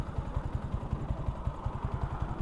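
Motorcycle fitted with a Replica Pro exhaust idling, a close, low, rapid and steady pulsing putter with a slight clatter, heard alone.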